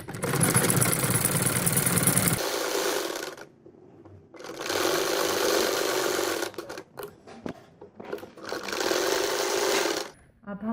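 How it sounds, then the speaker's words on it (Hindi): A sewing machine stitches a boat neckline onto a shirt in three long, loud bursts of rapid mechanical whirring, with short pauses and a few clicks and handling taps between runs. "अब यहाँ पे हम सिलाई लगाएंगे"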